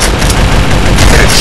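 Loud, booming gunfire in the blocky online shooter Block Gun FPS, with dense, overlapping shots close up that fill the whole moment.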